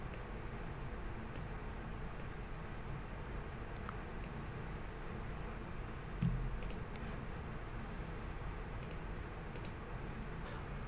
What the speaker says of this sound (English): I'll switch it from paint in to paint out by holding down shift and hitting X on my keyboard.